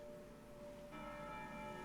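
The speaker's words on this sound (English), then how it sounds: "The bells from Valhalla are ringing in the background" Bells ring in the background of the video game Chrono Cross, a soft sustained chime with lingering tones that brighten and thicken partway through, faint and alone without talk.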